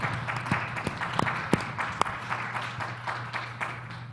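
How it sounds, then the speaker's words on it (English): Applause at a charity dinner, a moderate, fairly steady clatter of clapping from a modest room crowd, with a few sharp, distinct claps standing out and a low steady hum beneath. "Let's give these individuals on the screen a big virtual round of applause"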